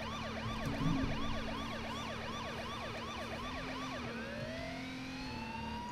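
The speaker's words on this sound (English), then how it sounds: "And when the sirens are on," A wailing emergency vehicle siren in the video game H1Z1 cycles rapidly up and down, loud and continuous, then shifts to a slower rising wail near the end.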